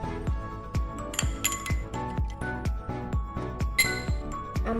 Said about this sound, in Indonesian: Lalu aduk.